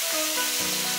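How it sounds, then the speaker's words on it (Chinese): Green and red bird's-eye chilies, ginger shreds and scallion pieces stir-fried in a wok over high heat give a loud, steady, hissing sizzle with no voices. "投入青红小米辣、枝姜丝、葱段，大火翻炒至更深"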